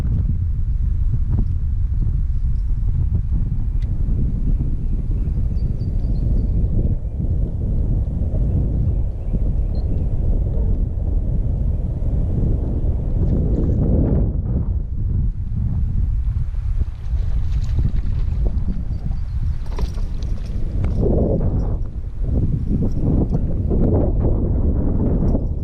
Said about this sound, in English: Man, it's super windy out here.